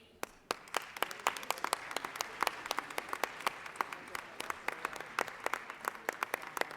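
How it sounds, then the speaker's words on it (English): Applause rises from members and guests in a state legislative chamber during a 2023 session day, honoring people standing. Sparse, distinct claps at first build into steady moderate clapping from a sizeable group across the room, with no talk. "would you please stand up so that we can applaud for you?"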